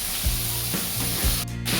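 Chicken keema cooks with masala and salt in a hot pan, hissing loudly and evenly throughout with brief spray-like bursts, while a regular pulsing hum sits underneath.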